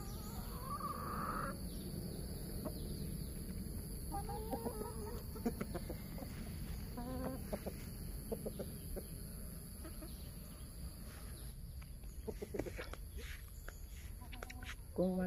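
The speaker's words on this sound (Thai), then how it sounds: "ไก่มันแลนมาหา" Chickens cluck and a rooster calls intermittently nearby over a steady outdoor background with some faint rustling.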